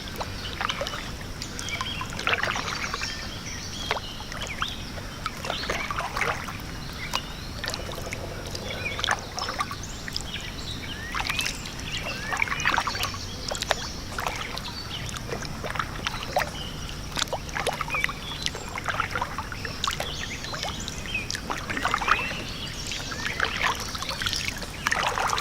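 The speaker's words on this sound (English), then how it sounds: "I always love these early morning kayaks." A kayak paddles across Blue Marsh Lake in the early morning, with steady, quiet strokes dipping and trickling water at a calm rhythm, close by against a soft outdoor background.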